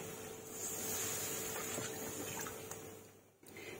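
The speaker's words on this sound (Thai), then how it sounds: "เติมน้ำนิดนึง" Water is poured into a pot of bubbling curry with glass noodles and canned fish, kaffir lime leaves and whole chilies, a steady close liquid rush that tapers off near the end.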